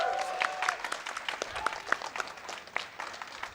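Applause and cheering rise from a live crowd at a summer speedrun marathon event, a steady crackling mass of clapping with scattered bright game chirps over it.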